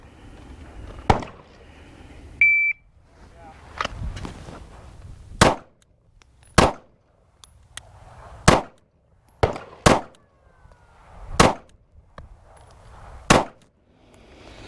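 Handgun shots fired in a Bill Drill at a shooting range: several sharp, loud reports, mostly single spaced shots with a quick pair near the middle, alone with no talk.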